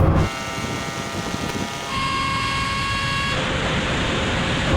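A Bugatti Chiron at full throttle in a race, its engine note rising steadily with a whining harmonic climb and a shift partway through, loud and close under rushing wind and road roar.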